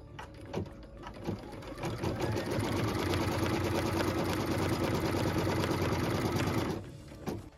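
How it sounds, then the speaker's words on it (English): A sewing machine stitches a tack-down line on a pieced quilt block in a fast, continuous mechanical whir that starts after a few clicks, holds steady at close range, and then stops. "What we're stitching now is the tack down line for piece number 2."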